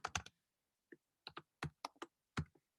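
Typing on a computer keyboard comes through as short, close clicks in small uneven bursts separated by brief pauses, with nothing else in a quiet room.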